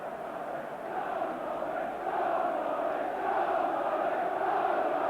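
Derby County football crowd roaring inside the Baseball Ground during a 1992 play-off semi-final against Blackburn Rovers, a dense sustained roar of massed voices swelling louder toward the end.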